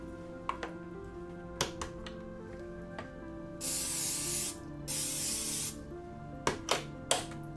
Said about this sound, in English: And then I'm just gonna use cooking spray.